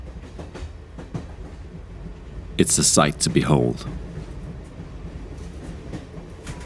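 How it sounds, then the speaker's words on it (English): Passenger train rolling across the Arctic landscape of northern Sweden, a steady low rumble of the carriage running under a voice, with a louder burst of noise in the middle of the ride. "This 550-kilometer train ride across the terrain of the Arctic landscape."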